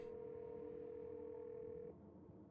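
A phone dial tone plays in the video game Scarlet Hollow, a single steady faint tone that holds for about two seconds and then cuts off, leaving a quiet background hum.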